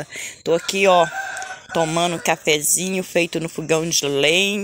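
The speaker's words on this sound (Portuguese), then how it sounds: "ouvindo o galo cantar ali" A rooster crows outdoors in a garden near a wood-burning stove, the call partly buried under a person talking continuously up close.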